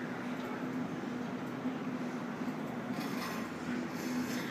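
Suburban train set A74 pulls away from the platform toward Hornsby, bound for the yard, with a continuous rolling rumble and a broad wheel-on-rail roar that holds steady throughout.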